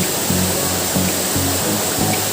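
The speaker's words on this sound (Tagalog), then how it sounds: "napakaganda ng agos ng tubig" Waterfall at Malaikmo Falls pouring into a deep pool, a loud, steady broadband roar of rushing water that fills the whole clip up close, with low rumbling undertones.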